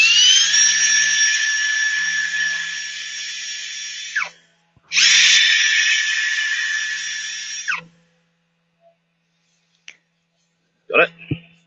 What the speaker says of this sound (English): it's where it's probably the sandpaper's bouncing off the crack